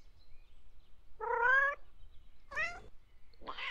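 Cats meow in a first-person video game, three distinct calls spaced about a second apart, clear against a quiet background.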